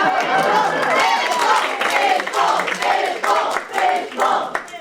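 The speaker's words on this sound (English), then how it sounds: "I want to give a quick round of applause for all the poets who came out tonight" An audience at a poetry slam claps and cheers for the poets, steady applause mixed with whoops and lively chatter from a close, energetic crowd.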